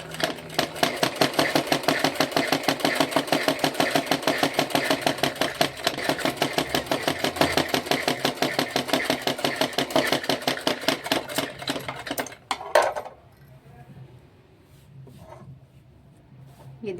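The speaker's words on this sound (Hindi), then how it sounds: "ये हमने पीछे का भी सिल दिया है बेल्ट की तरफ से" A sewing machine runs fast and steadily while stitching a belt blouse, a close rhythmic needle chatter for about twelve seconds before it stops with a clunk, leaving quiet room noise.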